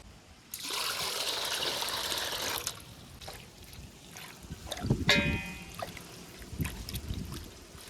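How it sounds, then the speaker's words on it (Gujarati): Fresh-picked vaseti greens for bhajiya are swished and rinsed in water, first a long steady splashing trickle, then a few shorter sloshes and drips close by. "હવે આને આપણે પાણીમાં ધોઈ નાખવાની છે."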